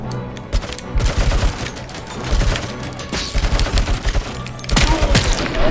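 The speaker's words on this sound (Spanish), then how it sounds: "me mola esto, la ametralladora esta" Rapid machine gun bursts in the video game RoboCop: Rogue City, loud and close, with heavy thuds and impacts punctuating several volleys of fire.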